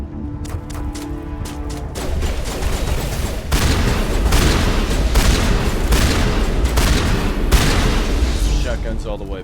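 Shotgun fire in the Mass Effect video game: rapid sharp blasts and booming reports in a dense firefight, starting with a few isolated shots, then a continuous loud barrage of gunfire and explosions.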